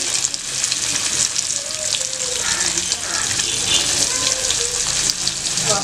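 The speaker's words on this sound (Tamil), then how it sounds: "சூடானதும் நம்ம மீன் நல்லா போட்டோம்." Loud, steady sizzling and crackling of fish frying in hot oil, continuous throughout.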